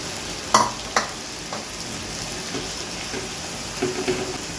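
Prawn and bottle gourd curry simmers and sizzles gently in a pan, a soft continuous bubbling with a couple of sharp utensil clinks near the start and faint scraping later.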